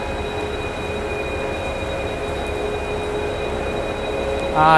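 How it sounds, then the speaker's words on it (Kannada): Loud, steady rumble of a train locomotive idling nearby, with a sustained tonal hum and a brief rise in noise at the end. "ಬಂದ್ವೆ ನಮ್ಮ ಸ್ಪೆಷಲ್ ಲೋಕೋಮೋಟಿವ್ ಹತ್ರ"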